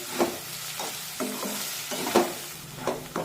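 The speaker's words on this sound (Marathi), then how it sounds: "मध्यम आचेवर हा कांदा छान सोनेरी रंगावर परतून घ्यायचा" Chopped onion fries in a pan on a medium flame for pav bhaji and is stirred until golden. A steady sizzle carries under repeated scraping strokes of the spoon, close and moderately loud, with no talking.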